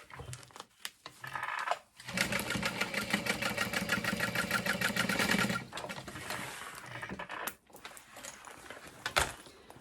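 A sewing machine top stitching through a bag lining runs in a fast, steady mechanical whir for about four seconds, with brief softer starts and stops and handling clicks around it.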